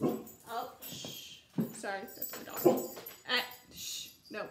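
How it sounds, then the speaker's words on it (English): A pet dog whimpers and gives short yips and barks indoors at home, close and fairly loud in several bursts, with a person's hushing voice mixed in. "Sorry, that's my dog."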